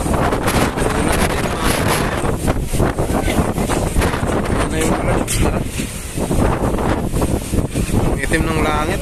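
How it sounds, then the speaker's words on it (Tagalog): Strong wind roars across Manila Bay, buffeting the microphone with a loud, constant rumbling rush for the whole stretch, while a person talks faintly beneath it. "At malalakas dito yung hangin."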